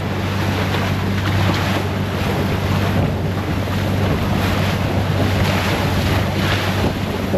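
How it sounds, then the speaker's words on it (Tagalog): Big sea waves surging around a fishing boat out at sea, a constant loud wash of water and wind buffeting the microphone, with a low steady engine hum underneath and no voices. "Talagang malakas yung alon, malalaki."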